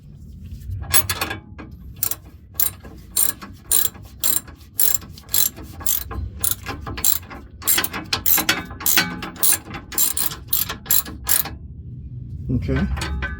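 Ratchet turning a 5mm hex on a 2008 Acura MDX rear shock gives rapid bursts of close, sharp clicking across many strokes, steady in rhythm, then a short pause before a final faint rustle.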